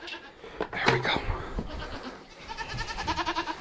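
Goats on a farm bleat several times in quick succession, closer and overlapping toward the end, with scattered farmyard movement and a faint voice in the background.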